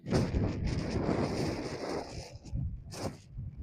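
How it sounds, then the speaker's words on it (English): Steady wind buffets the microphone on a disc golf course in Denmark, a loud broadband rush with gusts rising and falling throughout, no voices present. "It's pretty windy."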